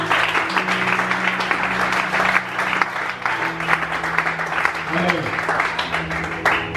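Congregation at a church service applauding for the Lord, a continuous wash of clapping under a speaker's voice and crowd noise throughout.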